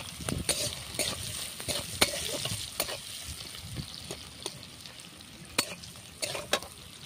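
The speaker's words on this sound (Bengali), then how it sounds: "ওর মধ্যে দিয়ে দিচ্ছি পেঁয়াজ কোচানো" Chopped onions sizzling in hot oil, with repeated sharp scrapes and taps of a spatula stirring the pan.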